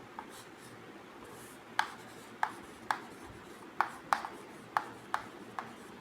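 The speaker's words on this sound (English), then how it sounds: "Okay, here I want to write." Chalk or pen writing during a classroom science lesson: a faint scratchy rub punctuated by sharp taps at irregular intervals, about a dozen strokes, close and quiet with no talking.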